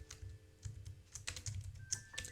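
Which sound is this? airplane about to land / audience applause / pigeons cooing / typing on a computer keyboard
typing on a computer keyboard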